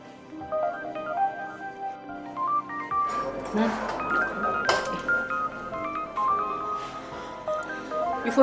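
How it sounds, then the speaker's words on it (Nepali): A telephone ringtone plays a melodic run of bright electronic tones, clear at first, then partly buried under a busier mix of background sound and music. "यो फोन चाहिँ उठाउनै पर्यो"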